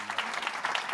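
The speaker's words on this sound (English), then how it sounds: "Please join me in a round of applause" A brief burst of audience applause for the panelists at a legal conference on banking crises, dense and even clapping from a seated crowd in a hall, close and moderately loud.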